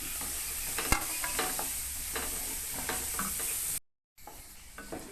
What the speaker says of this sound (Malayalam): അതിനുശേഷം ക്യാരറ്റ് കൂടി ഇട്ട് കൊടുക്കാം. എന്നിട്ട് ഒന്ന് ചെറുതായിട്ടൊന്ന് മൂപ്പിച്ചെടുക്കാം.